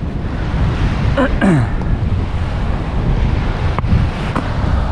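Strong wind gusts buffet an open boat at sea in the Kimberley, a rough, constant rushing roar over the microphone with faint water noise and brief squeaky sounds.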